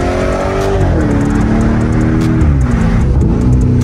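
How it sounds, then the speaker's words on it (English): A Lamborghini Urus S SUV runs fast on a highway, its engine note loud and steady with harmonics that dip and climb as it shifts and accelerates, heard from inside the cabin with no talking. "This is the Lamborghini Urus."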